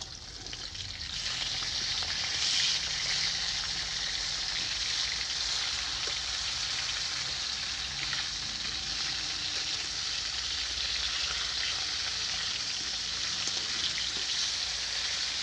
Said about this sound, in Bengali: তেল গরম হয়ে গেছে, আর মাছগুলো লাল লাল করে ভেজে নিব।